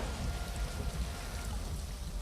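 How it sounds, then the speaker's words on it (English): Acidic blood rain from the Blood of the Fallen power in the video game Tyranny, a steady hiss of falling drops pattering across a surface, continuous and even throughout with no voices. "Acidic blood rains down."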